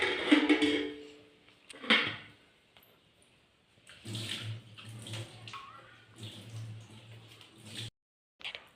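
Water poured from a pan to wash hands at home during a power cut, splashing and trickling in several separate bursts with quiet gaps between.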